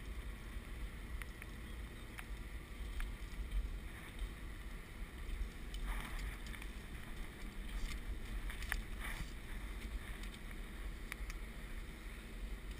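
Water sprays steadily from a water-fed pole, rinsing a window after brushing: a constant hissing wash at moderate level with a few splashing crackles and no speech.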